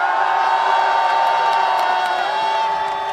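Dense rally crowd cheering and applauding at a political impeachment rally, a steady loud wash of clapping and shouts with scattered whoops, continuous throughout without pause.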